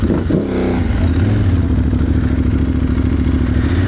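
An Aprilia Tuareg adventure motorcycle rides close on a busy offroad track, its engine a steady loud drone with a brief rev near the start and clattering rattles underneath throughout.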